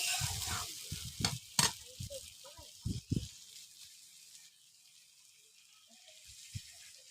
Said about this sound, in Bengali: টমেটো কুচিগুলো দিয়ে দিলাম ভালো করে নাড়তে হবে